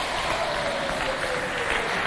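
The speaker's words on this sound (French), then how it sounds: "je demande qu'on applaudisse pour les belles femmes qui sont présentes ici ce soir" A theatre audience in the Onama hall gives sustained applause during a live TV variety show, a dense even wash of clapping with faint crowd murmur and a thin tone running underneath.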